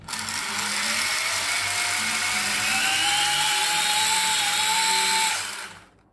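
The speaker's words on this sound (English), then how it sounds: "the front left propeller is not working properly. As you can see, it's spinning freely. It's not touching its gears." A drone's front left propeller spins freely without engaging its gears, giving a steady high-pitched motor whine with a faint rising tone, running continuously for about five seconds before cutting off.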